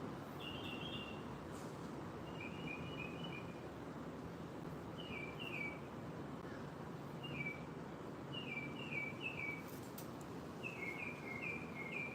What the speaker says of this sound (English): The birds are serenading us.